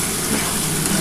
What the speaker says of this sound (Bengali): দেখো কত সুন্দরভাবে মশলাটা কষিয়ে নিয়েছি, দেখো তেলটা পুরো ছেড়ে ছেড়ে এসছে